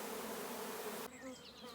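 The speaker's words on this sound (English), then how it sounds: "So now this swarm is settled in the box" A honey bee swarm hums in a faint, continuous buzz close by, its tone thinning and shifting partway through.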